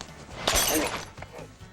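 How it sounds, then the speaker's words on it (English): A polystyrene stunt bottle, made to look like real glass, shatters over someone's head at the Universal horror makeup show, giving one sharp, close breaking crash followed by brief scattering debris. "You remember the stunt where we broke a bottle over someone's head?"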